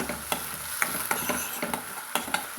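Ground masala sautéing in oil in a pan for mushroom gravy, with a steady close sizzle and repeated scraping stir strokes at an irregular rhythm, no voices.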